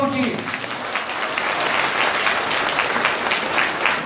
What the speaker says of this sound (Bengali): তার জন্য পুরো হল জুড়ে হাততালি হওয়া উচিত